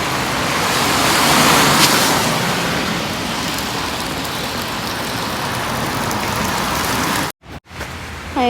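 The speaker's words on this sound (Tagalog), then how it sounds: "Wala na, ulan na siya" Heavy rain pours down steadily after a hailstorm, a dense broadband hiss with faint road traffic beneath, close and loud, briefly cutting out near the end.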